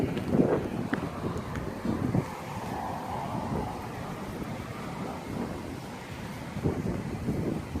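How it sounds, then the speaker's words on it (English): Strong gusting wind outdoors in a backyard on the day before Hurricane Irma, a steady low roar with rising and falling buffets that rumble against the microphone throughout, with no talking. "Pretty windy in the back."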